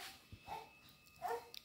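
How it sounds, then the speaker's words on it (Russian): A dog gives two brief, faint barks in a quiet indoor setting, short and soft with a low background hum. "Аф, аф, аф, собачка лает."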